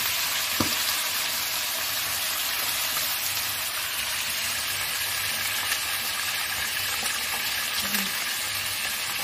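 Tilapia fries in a pan with a steady, even sizzle, like a soft hiss, that runs the whole time at moderate loudness with a faint tap or two.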